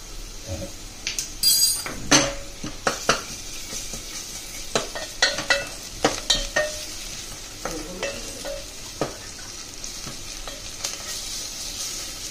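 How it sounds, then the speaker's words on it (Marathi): Onion with ginger-garlic paste frying in a pressure cooker for chicken pulao, a continuous sizzle punctuated by frequent metal spoon scrapes and clinks against the pot as it is stirred, close up with no speech. "आपण आता आलं लसूण पेस्ट टाकणार आहे।"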